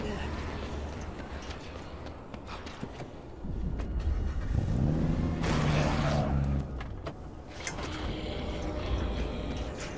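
Car engine in the Dead Rising 3 video game revs up with a harmonic rise mid-clip, sustained over a steady vehicle rumble while a person talks intermittently.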